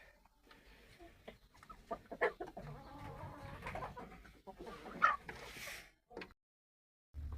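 Chickens cluck and peck steadily while eating feed, a busy cluster of close, moderately quiet calls and soft pecking over about seven seconds, pausing briefly near the end.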